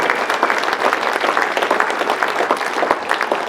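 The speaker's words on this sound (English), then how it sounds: "Big round of applause for Rob Smith" Audience applause at a UCP town hall, a steady dense wash of many hands clapping close and loud throughout, with no speech over it.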